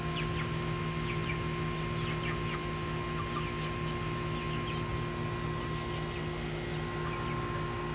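Chickens in a garden coop cluck faintly under a steady hum and background noise, with scattered soft calls; distinct wing flapping is not evident.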